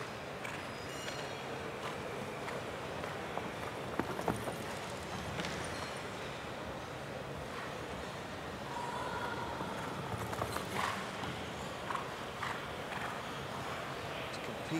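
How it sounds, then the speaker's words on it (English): Hooves of a show jumping horse at an international show jumping Grand Prix in Hong Kong, a steady clip-clop under broad arena crowd noise, moderately near with no clear talk over it. "the leading lady rider in the world, Edwina Tops-Alexander, number 4 in the world, with Tops Horse Trading's Guccio"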